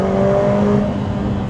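Lotus Emira Turbo with its AMG engine and DCT gives a quick throttle blip on a canyon drive, one loud close rev that swells and settles into a steady engine drone.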